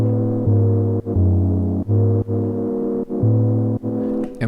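Deep synth pad chord, the bass variation of a patch built in Bitwig, sustaining loudly and alone with a low droning foundation, briefly dipping and re-attacking about every second in a steady pulsing rhythm.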